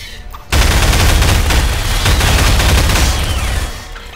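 Guns blazing in Garry's Mod: after a brief quiet moment, loud continuous rapid gunfire erupts and sustains for about three seconds, dense overlapping shots with heavy low thump, fading at the end.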